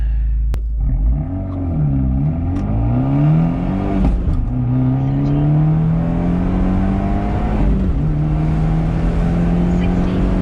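Fiat 124 Spider Abarth accelerating hard from 0 to 60, engine pitch climbing steadily through the gears with a clear dip at each shift, loud and close from inside the car.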